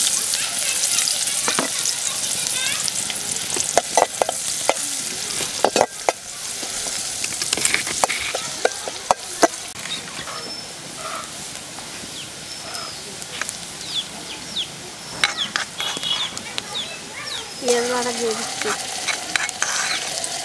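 Chopped onion frying in oil in a village kitchen, a continuous sizzle with frequent scraping and tapping of a spatula, a bird calling faintly outdoors near the end.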